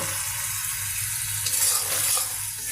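Fish sautéing in a pan gives a continuous, moderately loud sizzle with a faint stirring scrape toward the end.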